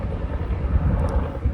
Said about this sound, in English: Just watching a helicopter.